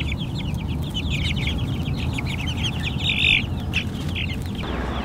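Chickens in a chicken tractor on a pasture farm cluck and chirp repeatedly in a busy, close chorus, with one louder squawk near the end over a low outdoor rumble.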